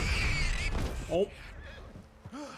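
A horse in the video game Red Dead Redemption 2 gives a short whinny near the start, mixed with game sounds and a voice speaking.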